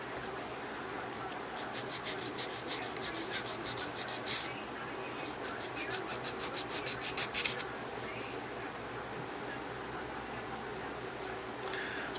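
An acrylic nail tip is filed by hand, a faint close scratching rasp made of rapid back-and-forth strokes, clearest in a quick rhythmic run midway, with soft rubbing throughout.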